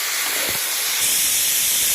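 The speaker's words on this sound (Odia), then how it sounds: "ଛତୁକୁ ଭଲସେ ଟିକେ ଭାଜିବେ" Mushrooms frying in a pan, a loud, steady hiss and sizzle that swells partway through and carries on alone.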